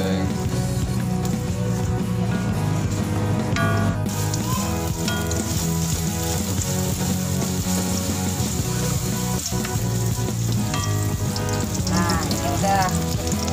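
Garlic and shallots sizzling and stir-frying in hot oil in a home kitchen, a steady loud crackling hiss throughout with occasional scraping stirs.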